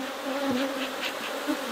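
Honeybees buzzing around a hive being split, a steady close droning hum with individual bees passing near.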